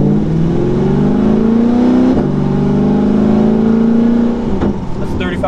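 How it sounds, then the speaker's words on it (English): A 2020 C8 Corvette engine with Corsa exhaust and bolt-ons revs loudly and close, its pitch climbing and dropping across gear changes, a deep droning growl throughout. "you can definitely hear the engine more with this mode on"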